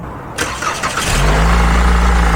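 A 2014 Chevy Impala's starter cranks briefly before the engine catches and settles into a steady, loud idle close by, with no talking over it.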